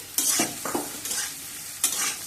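Ridge gourd and potato pieces stir-fried in a pan, giving a few distinct bursts of sizzling and scraping as the spatula turns the vegetables, close and loud against a quiet background, no talking.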